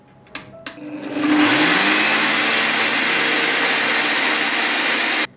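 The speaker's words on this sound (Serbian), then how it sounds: "sve ću samleti" Kitchen blender grinding oat flakes with sugar and water, starting after two brief clicks and then running as a loud, steady whirring drone for about four seconds before cutting off abruptly.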